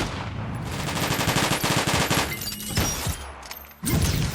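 Shotgun fire in a Titanfall-like first-person shooter video game: loud, rapid bursts of gunfire in quick succession, broken by short pauses, with heavy booming hits and a final sharp blast.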